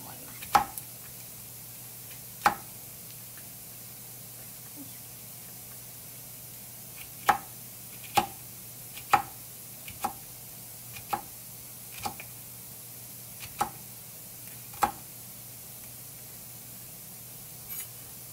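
Knife chopping food on a wooden cutting board in a home kitchen, about a dozen sharp, separate knocks at an uneven pace against a quiet background hum.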